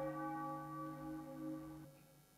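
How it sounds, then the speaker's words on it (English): A single church bell strike rings out with a sustained, humming tone that slowly fades, heard alone and at moderate distance. "So it's a church bell sound"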